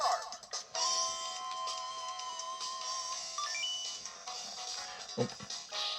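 Tinny music from the Metal Slug X soundtrack plays through a phone speaker as a steady melodic line with bright tones, fairly faint, with no talking over it.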